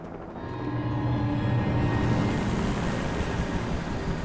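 A helicopter in the video game Alan Wake Remastered, a steady rotor and engine drone that builds slightly after the first half second and then holds loud and continuous with no voices.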